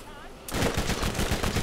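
Rapid bursts of SMG gunfire in the video game Borderlands, starting abruptly after a brief quiet moment and continuing as a loud, dense rattle of repeated shots.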